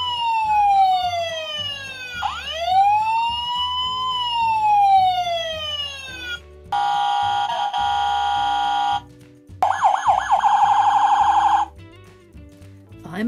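American fire truck siren from the Fireman Sam cartoon, sweeping wails followed by rapid electronic yelps and warbling tones, loud and close over background music.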